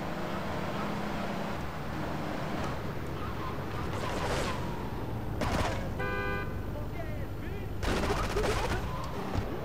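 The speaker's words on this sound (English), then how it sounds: "Quit shooting me!" Gunfire in the video game GTA III, bursts of shots and a vehicle horn over steady engine and street noise, with someone talking.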